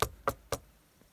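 Three sharp, evenly spaced knocks strike a hollow log beehive, close and distinct, followed by a faint fourth tap and quiet.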